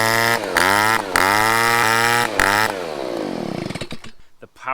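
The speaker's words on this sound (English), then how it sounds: "The power to the blower is completely restored and it's pretty much like brand new." A STIHL leaf blower, its clogged spark arrestor just cleared, roars loud and close in repeated full-throttle bursts with brief dips between them, then winds down and sputters toward idle.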